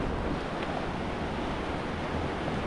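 Waves wash onto an empty beach in Cambodia in a steady, unbroken roar of surf, with wind buffeting the microphone throughout and no voices.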